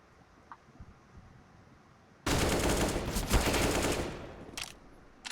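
Rapid gunfire bursts out in a competitive tactical shooter match after a quiet stretch, a loud sustained volley of automatic shots lasting about two seconds, followed by a brief final crack.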